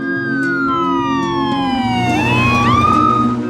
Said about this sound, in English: Send an ambulance right away.